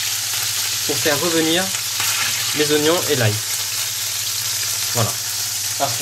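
Moroccan-spiced beef meatballs sear in hot olive oil with a steady, close sizzle, as a voice speaks briefly over the frying.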